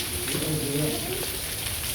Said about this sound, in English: Feel the rain on Andhra Pradesh before monsoon.